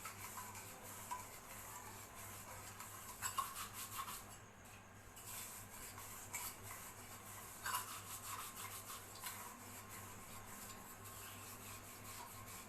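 A copper and brass utensil being scrubbed by hand with rangoli powder, a continuous gritty rubbing and scraping that rises and falls in strokes, quiet and close, with no talk.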